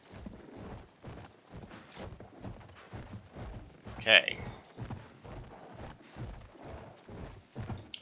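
Horse hooves clip-clop in a steady, even rhythm during Battlefield 1 gameplay, with a sharp whinny-like burst in the middle and a player talking over the hoofbeats.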